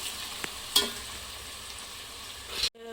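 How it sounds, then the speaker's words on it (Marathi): Chopped onion sizzles steadily in hot oil as it fries until reddish, a close, even crackle with a brief utensil clatter early on, before cutting off abruptly. "आणि आपला कांदा थोडा लालसर होईपर्यंत ठेवायचा आहे आपल्याला।"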